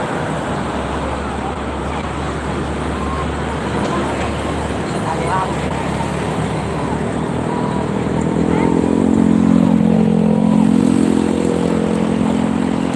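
Steady roadway rumble from traffic on the Jakarta-Cikampek toll road during holiday congestion, a continuous wash of engines with a motorcycle or vehicle swelling louder toward the end, with people talking over it.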